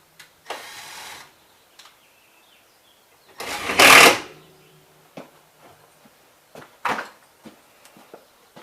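Screws are driven into drywall patched around a water heater, with short bursts of a power driver whirring, one louder longer run, and scattered close clicks and knocks between pauses.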